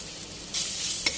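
Bacon frying over medium-low heat and rendering its fat makes a short burst of close crackling sizzle that surges once midway and flares again near the end.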